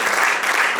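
A church congregation applauding, steady and loud dense clapping from many hands throughout a brief burst, with no voices over it.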